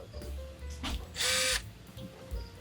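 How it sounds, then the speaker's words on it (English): A single short burst of a power drill spinning up for about a second, fairly quiet, among faint background shuffling and hum. "I'm gonna take my drill, and I'm gonna drill right like this."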